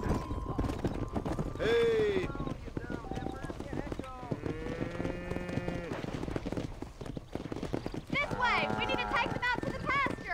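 Hooves of a horse clatter steadily in Red Dead Redemption while someone talks over them and other voices and a whinny-like call rise in the mix.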